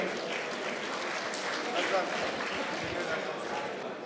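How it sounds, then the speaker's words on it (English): Round of applause from the audience at a British Bangladeshi awards ceremony, steady and dense throughout, with a voice talking faintly beneath the clapping. "A big round of applause in absentia for Rukhsana Begum"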